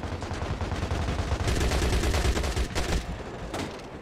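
AK rifle fire in the video game Crossfire X, a steady rattle of shots at moderate level over a dense background of game noise, with louder bursts toward the middle and end.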